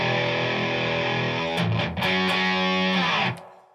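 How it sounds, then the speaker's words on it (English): Electric guitar played through a RAT distortion clone pedal into a Supro amp, sustained saturated chords ringing out, then a few quick picked strums and a final held chord cut short, loud and close with no talking. "Then I have a rat distortion clone here just to show you kind of how responsive this is"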